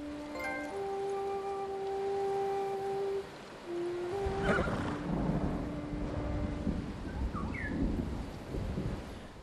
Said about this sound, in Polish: Wywołuję burzę.